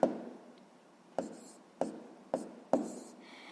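A math solution being handwritten with pen on paper: five short, crisp taps and strokes spaced about half a second to a second apart, close to the microphone, with no speech.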